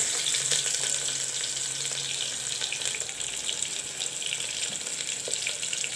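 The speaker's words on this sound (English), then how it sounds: "Put the oil, put the onions" Onions and bay leaves fry in oil for a soybean, chana dal and potato curry, producing a dense, continuous hissing sizzle with faint stirring clicks, steady and close, with no voices.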